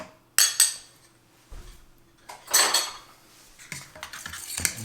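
Refried beans getting mixed in a pan: a metal spoon clanks and scrapes against the pan in a few sharp knocks and longer scraping strokes, close by and with no talking.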